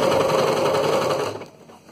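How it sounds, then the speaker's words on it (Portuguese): A sewing machine stitches bias binding onto sacking fabric, running steadily with a fast, loud mechanical chatter for over a second, then slowing and fading as it stops. "e vou começar a costura aqui, ó. Tá? Faço um retrocesso"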